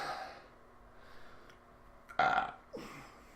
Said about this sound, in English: And I'm going to burp.